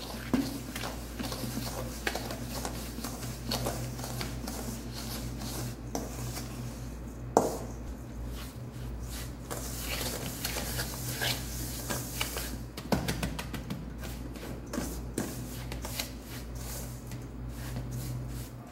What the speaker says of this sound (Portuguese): E agora eu mexo bem todos esses ingredientes.